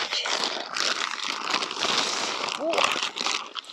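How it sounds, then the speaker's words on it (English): A plastic bag of garden soil is torn open, giving continuous crinkling and rustling close by for several seconds, with a short squeak partway through and no other sounds over it. "I tore the bag wide open."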